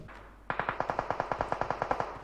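Rapid automatic gunfire in PUBG Mobile, about fourteen evenly spaced shots in a steady burst after a brief quiet start, loud and close with no talk over it.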